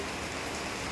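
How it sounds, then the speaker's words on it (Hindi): Heavy monsoon rain pouring down beside a small roadside tea stall in Chitrakoot, a dense, loud, continuous hiss of drops drumming on surfaces. "देखिए बारिश हो रही है"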